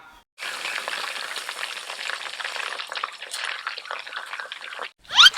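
Pork pieces frying in oil over a medium flame give a steady, close crackling sizzle that starts abruptly and runs for several seconds, then stops with a short sharp clatter at the end.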